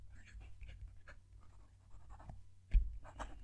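A fountain pen scratches across paper up close, making soft, intermittent strokes with a louder tap near the end and quiet breathing in the background.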